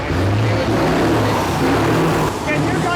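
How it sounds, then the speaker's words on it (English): A powerful truck engine revs and rumbles up close at a motor show, its low growl rising and falling under some background voices. "That is his truck making that noise, guys."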